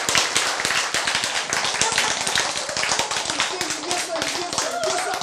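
Audience clapping fills a lecture hall after a speaker's rousing point, dense and steady throughout with cheering voices mixed into the crowd noise.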